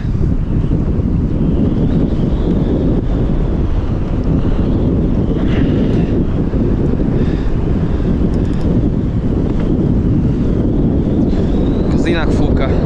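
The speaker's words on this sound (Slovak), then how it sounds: "Inak fúka." Strong wind buffeting the microphone on a boat anchored on a reservoir during carp fishing, a loud continuous rumble with water lapping and slaps against the hull, and someone talking through it.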